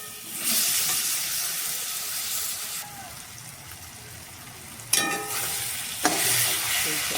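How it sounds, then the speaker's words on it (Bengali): Chopped tomatoes frying with onions in a pan give a continuous loud hiss and sizzle that dips and surges, broken by a couple of sharp stirring clatters. "পেঁয়াজের সাথে টমেটো ভাজা ভাজা হয়ে গেছে।"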